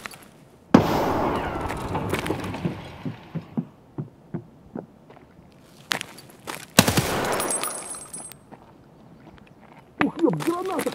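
In the Escape from Tarkov video game, a grenade explodes and gunfire rings out. Sharp blasts and bursts of rapid shots stand out over quieter single shots and ambient game noise, while players talk in Russian.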